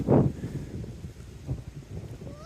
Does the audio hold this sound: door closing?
no